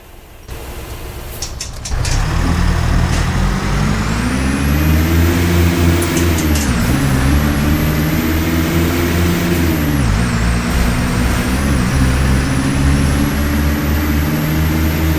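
Vip2 Midi bus engine in the game Proton Bus roaring loudly after a quiet start, a deep droning rumble that rises and falls through gear changes with a high whine above it.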